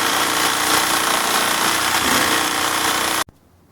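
A power tool cuts off a seized bolt on the rear knuckle of a 2002 Honda Civic, loud and close with a harsh, steady grinding roar that stops abruptly near the end.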